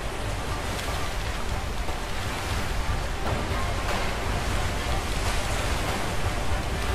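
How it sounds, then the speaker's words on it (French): A rushing waterfall in the video game A Way Out roars as a continuous loud wash of broadband noise, steady and close for the whole stretch. "la cascade. Oh la cascade."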